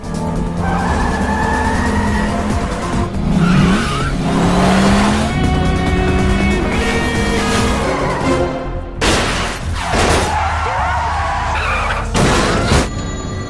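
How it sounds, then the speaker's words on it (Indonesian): A car in a film scene accelerates away with its tires skidding. A loud, continuous engine roar runs under squealing, whining tire tones, and a couple of sharp bursts break in near the end. "Don pun kembali menancap gas mobilnya"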